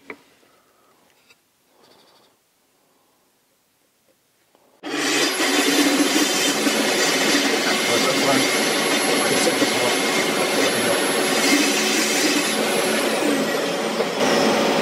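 A table saw used with a mitre spline sled to cut slots for splines in a mitre joint starts up after quiet handling noises and runs loud and steady, a continuous whine that carries on to the end of the clip.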